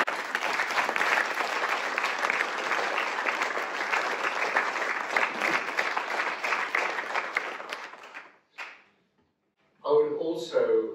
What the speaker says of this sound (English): I think you all ought to have a round of applause for just that bit.